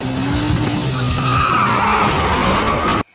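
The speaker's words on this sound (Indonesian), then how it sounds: "Keesokan harinya, Sean belajar drift." A car drifts with tires skidding and squealing in a long, loud continuous screech over engine roar, ending abruptly.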